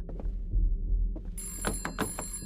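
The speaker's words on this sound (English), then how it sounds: "I hear a phone ringing." A phone rings inside a VRChat horror room, with bright repeated ring bursts in the second half following low rumbling ambience and thumps.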